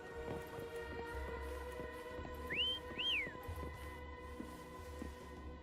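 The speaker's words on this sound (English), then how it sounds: "Try whistling." Two rising-and-falling whistles, the second starting about half a second after the first, call a horse in the video game Wuthering Waves, heard over soft game ambience and faint hoof-like thuds.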